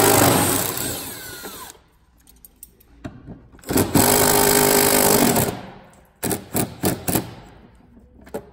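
An impact gun hammers at transmission bolts on a Lexus IS300 during auto transmission removal, with a long loud rattling burst, a second sustained run, then several short stuttering bursts close to the microphone.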